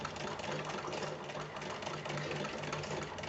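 A sewing machine stitches along the shape of a piece of buckram while a small child's kurta is made from leftover fabric, a steady motor whir with rapid needle chatter running unbroken at moderate volume.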